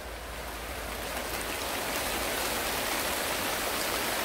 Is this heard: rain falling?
yes